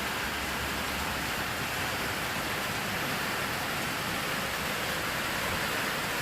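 Steady rain falls on a cool, rainy day in a small-town RV setting, a dense even hiss with no breaks or voices throughout.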